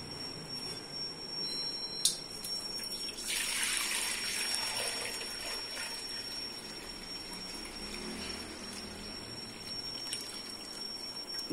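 Water pours into fresh milk in a steady, close trickle and gush, continuing in varying strength with no speech over it.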